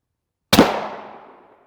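An armor-piercing incendiary rifle round strikes an edge-to-edge alumina ceramic NIJ Level IV armor plate, giving a single sharp, loud crack-pop that rings out and fades over about a second, with no other sound around it.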